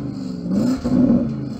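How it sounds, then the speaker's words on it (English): A Porsche Cayenne Turbo SUV in its sportiest exhaust setting gives two quick, loud revs close by, the engine note swelling and dropping back to idle. "So I'm going to rev up this Porsche."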